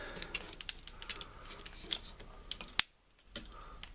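Small plastic tabs on a KO Masterpiece Streak Transformers figure pressed into slots, scattered light clicks and taps with one sharper snap near the middle, quiet and close.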